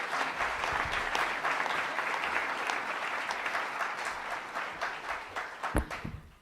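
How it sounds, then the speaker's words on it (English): Audience at a prairie festival research talk applauding a speaker, a fairly quiet but continuous round of clapping from a seated crowd, fading out near the end with one sharp thump. "So give a round of applause for Liz."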